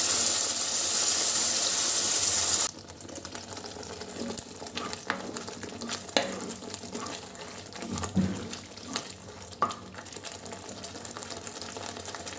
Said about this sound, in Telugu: ఉల్లి టమాటా పేస్ట్ వేసుకోవాలి.